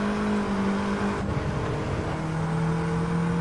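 Racing car in a racing video game drifting with the handbrake: a loud, steady engine drone that drops in pitch as the car slides sideways, then holds a sustained tone.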